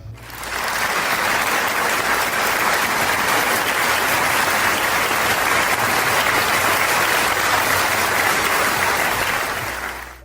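A large audience at a school annual day gives continuous, dense applause that swells in quickly, holds loud and even for about ten seconds, then tapers off at the close.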